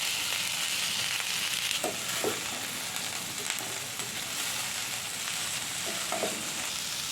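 Carrot and cabbage with ginger-garlic paste frying lightly in a pan: a continuous close sizzle, with a few soft stirring knocks scattered through and no talking.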